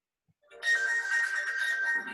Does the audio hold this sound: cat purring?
no